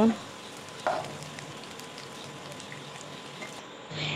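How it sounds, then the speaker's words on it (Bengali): Grated coconut sizzles in hot oil with a steady, moderate hiss, broken by a clatter at the start and a scrape of the spatula near the end. "নারকেলটা দেখো ভাজা হয়েও গেছে এখন আমি এটা তুলে নিচ্ছি"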